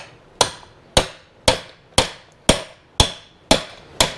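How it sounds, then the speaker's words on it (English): A 1 1/8 inch socket being struck to tap a seal into a Jeep Grand Cherokee valve cover, eight sharp, evenly spaced metallic knocks about half a second apart, loud and close with no talking. "That'll just fit right over the top of that seal and you tap it in."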